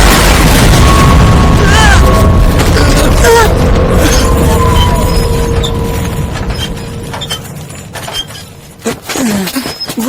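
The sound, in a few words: explosion blast in anime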